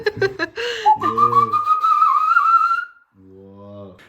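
A person whistles a bird call imitation, a long rising and wavering tone preceded by short chirps, heard clearly at close range with a brief pause before a lower whistled phrase.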